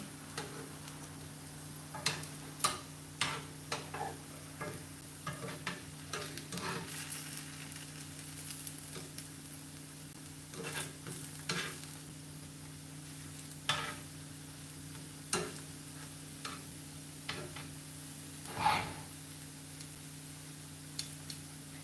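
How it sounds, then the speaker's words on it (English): Plantain slices fry quietly in a pan, a faint steady sizzle with scattered soft clicks and taps as the pieces are shifted and pressed flat, with a low hum underneath. "Switch these around a little bit, flatten you out, more contact, more golden."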